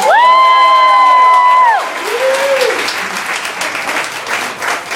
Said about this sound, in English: Let's hear it for our box office master, Laura.